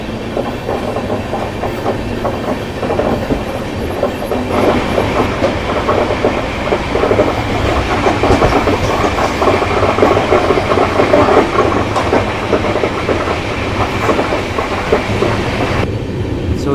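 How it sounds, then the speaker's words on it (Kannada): A Shivamogga–Chikkamagaluru passenger train runs on the rails with a loud, steady rumble and a rhythmic clickety-clack of wheels over joints. It is heard up close and continuously, with no voices. "ಸೊ ಇದೇ ಕಣ್ರಿ ನಾನು ಹೇಳ್ತಿದ್ದಿದ್ದು ಶಿವಮೊಗ್ಗ ಚಿಕ್ಕಮಂಗ್ಳೂರು ಪ್ಯಾಸೆಂಜರ್ ಅಂತ"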